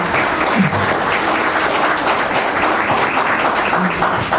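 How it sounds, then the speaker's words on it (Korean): A crowd at a book concert claps and applauds loudly and steadily, a sustained wash of hands clapping. "많이 좀 응원해 주시고 큰 박수 부탁드립니다"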